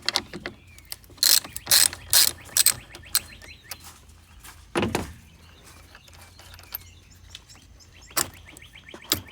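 A 10mm wrench on a Ford F150 battery terminal gives several quick ratcheting bursts, close and crisp, then a few isolated clicks and clunks separated by quiet pauses.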